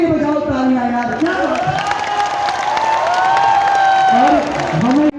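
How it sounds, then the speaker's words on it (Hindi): Crowd at a temple jagran for Shri Shyam clapping and cheering together, with raised voices and shouts riding over the steady clapping for the whole stretch. "आज आप सारे अपने लिए बजाओ तालियां"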